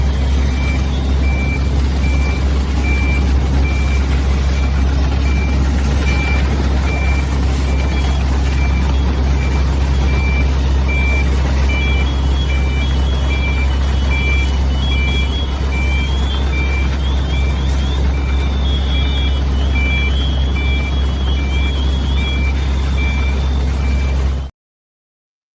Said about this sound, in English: it got that little annoying beep sound in the background